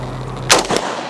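A single 5.56 rifle shot fired at targets outdoors, one sharp loud crack around the middle with a short rumbling echo trailing off, no voices.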